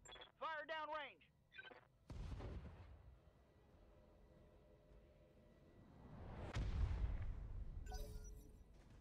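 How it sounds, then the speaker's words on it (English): Mech weapons firing in Battletech, heard as a deep booming blast followed by a long rumbling roar that swells again later; a radio-style voice speaks briefly at the start. "Fire downrange!"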